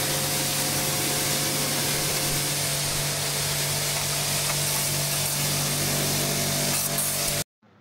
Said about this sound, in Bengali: অতঃপর প্রেসার ওয়াশার দিয়ে সুন্দর করে আউটডোর জিনিস সেটা আমরা ক্লিন